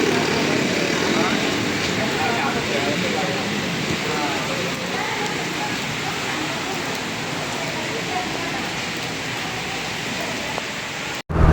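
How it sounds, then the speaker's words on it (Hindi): Heavy rain pours down in Tando Adam, Pakistan, in a dense, steady hiss that fills the space, ending abruptly at the very end. "बारिश शुरू हो गई जी यहाँ पे बहुत तेज़ टंडो आदम में"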